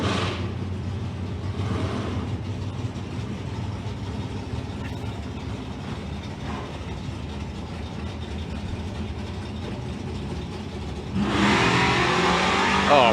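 A drag racing car at Santa Pod Raceway roars loudly and steadily for the whole stretch, its engine noise swelling sharply near the end as another run begins.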